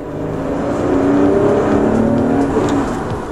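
A Lotus Evora's 3.5-litre V6 engine revs up under steady acceleration, a loud, rising growl close by with a smooth, whirring tone and no talking.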